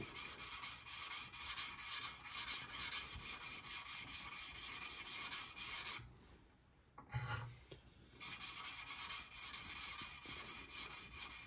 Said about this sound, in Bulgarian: пастата върху ножа и започваме да шлайфаме